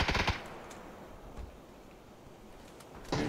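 Gunfire in the battle-royale game PUBG, a burst of rapid automatic shots at the start and another burst at the end, with quieter game ambience between.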